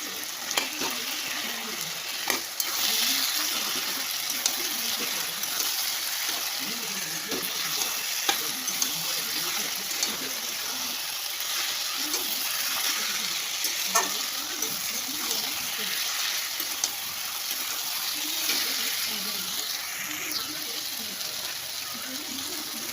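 Fish heads sizzle and crackle steadily in hot oil in a pan while being stirred, a continuous close frying hiss with occasional scrapes and taps throughout.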